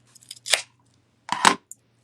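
Two quick snips of craft scissors cutting off the excess rubber band on a handmade ladybug door hanger, close and crisp, each cut a short burst of blade clicks with a pause between them.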